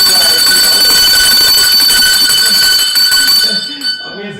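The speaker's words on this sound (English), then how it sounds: "Ring the bell." A loud electric bell rings continuously for several seconds on a cycling quiz show, then cuts off abruptly.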